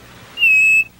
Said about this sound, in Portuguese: a mariquita, que canta de tudo,